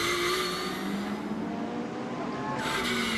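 A Ferrari and a Porsche race car scream past nose to tail at the Spa 24 Hours endurance race, with a loud sustained high-revving engine note that holds steady throughout.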